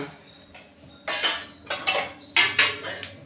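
Bisi bele bath being served onto a plate, with a few distinct clinks and scrapes of a serving utensil against the dish in close, irregular bursts.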